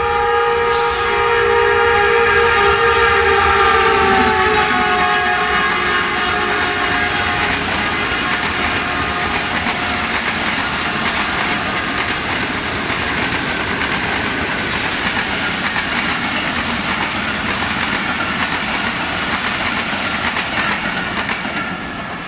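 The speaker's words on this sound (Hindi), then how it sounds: "यहाँ पे ट्रेन आ गई है" A train pulls into a crowded Kandy station, its horn sounding loudly over a long, continuous rumble of wheels and rolling carriages that carries on at close range throughout.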